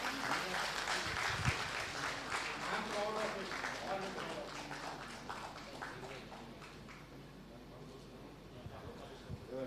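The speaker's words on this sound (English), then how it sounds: "Round of applause, please." An audience claps together at a conference in Nagpur, a dense patter of applause that is strongest at the start and thins out as it fades, with voices talking over it.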